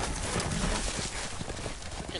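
Horse hooves clip-clop steadily with a brief whinny in a Game of Thrones video game, sitting beneath constant talking and laughter from players.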